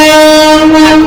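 At Dadar station a Mumbai local train heading to Bandra sounds its horn, a loud, close, sustained harmonic blast lasting about a second.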